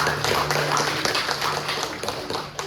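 Church congregation clapping hands during a sermon, a dense, fairly faint patter of many hands with little talk, continuing steadily for a couple of seconds.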